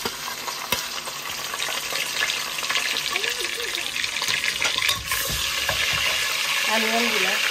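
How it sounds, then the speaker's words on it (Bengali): Ginger, garlic, bay leaf, cinnamon and cardamom fry in a pan with a continuous loud sizzle and occasional stirring, close up, with a faint voice briefly audible. "এরপরে ওই দিলাম সব মশলা তো আমরা আদা রসুন তেজপাতা দারচিনি এলাচি"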